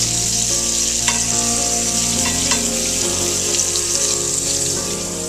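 Lamb lollipops sear in a hot pan while butter is spooned over them, a steady loud sizzle with occasional spitting crackles and faint clinks of the spoon against the pan.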